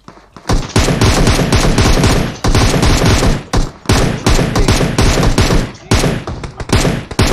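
Sustained automatic gunfire from enemy players in PUBG, long dense bursts broken by short pauses, very loud and close.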